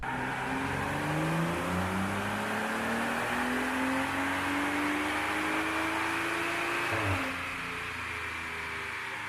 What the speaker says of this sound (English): let's head to the House of Boost for some dyno pulls